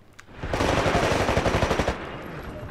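Rapid Titanfall gunfire cracks out in a fast, even series of shots lasting over a second, loud and close, then a lingering tail.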